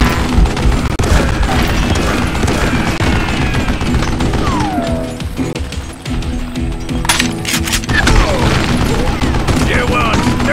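Rapid gunfire from the Western shooter game Call of Juarez Gunslinger, with repeated loud shots and booms packed densely over game music, and someone talking throughout.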